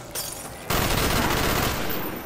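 A Call of Duty Black Ops zombies match, with a burst of rapid video game gunfire breaking out after a moment and continuing loud and dense to the end.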